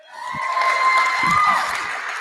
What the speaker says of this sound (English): Come on, cheer him on, guys.